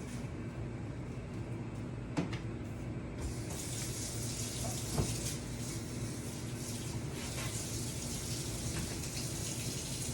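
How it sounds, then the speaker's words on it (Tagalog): Running tap water splashes steadily over freshly harvested tomatoes being washed in a sink, a continuous close hiss that grows brighter partway through as the flow strengthens, with small knocks from handling. "So, ayan, hugasan lang po siya."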